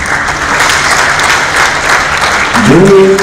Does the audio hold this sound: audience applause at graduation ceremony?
yes